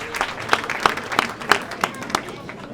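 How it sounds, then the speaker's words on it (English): Applause rings out at an annual banquet, a room of guests clapping in a steady, moderately close wash with sharp individual claps standing out over the crowd for a few seconds. "A big round of applause for them."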